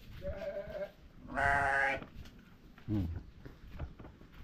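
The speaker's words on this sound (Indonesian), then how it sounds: "Kambing." Goats in a rural Javanese village, two clear loud bleats close by, the second long and wavering, with a short lower call after and faint background chatter.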